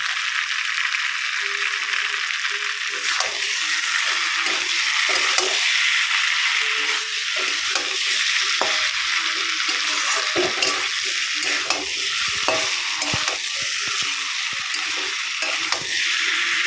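Potatoes, taro and fish sauté with salt in a pan for a fish curry, giving a steady, bright sizzle that runs throughout, broken by soft scraping and clinks of stirring.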